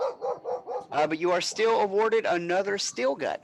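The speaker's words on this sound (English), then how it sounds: "Sorry, that's my dog." A pet dog barks and yips repeatedly in the background of a tabletop role-playing game session, its sharp calls mixed in with a person talking over it.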